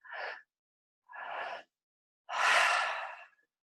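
Three slow, deep breaths during a guided meditation, each a soft, close airy inhale or exhale with pauses between, the last one longest and fullest, with no talking.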